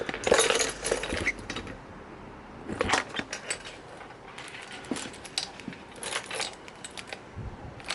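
A bunch of keys for a BMW G650GS motorcycle jangles and clinks in several short metallic bursts, close by, with quiet gaps between the shakes and no talking.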